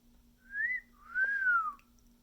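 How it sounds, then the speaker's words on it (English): A pet parrot on Hilton Head Island, SC gives a close, clear two-note whistle, a brief upward tone followed by a longer swooping one that slowly falls off, with nothing else but a low background hum. "Freedom, can you whistle?"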